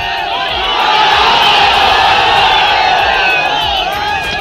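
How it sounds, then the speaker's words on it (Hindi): A large crowd at a Siwan political rally roars and cheers for Tejashwi, a loud, sustained wall of shouting and whooping voices that swells and holds steadily. "सिवान में जिस समय भीड़ ने तेजस्वी के लिए शोर किया"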